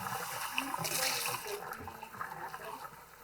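Water pours and splashes while a watercolor painter changes the rinse water, a close, uneven liquid rush with faint background murmur.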